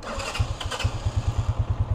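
A motorcycle engine catches and settles into a rapid, throbbing low pulse, pulling away up close in first gear with steady rhythmic putts.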